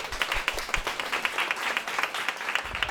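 A live podcast show audience breaks into applause, a dense, busy patter of many hands clapping at once that stays loud and continuous.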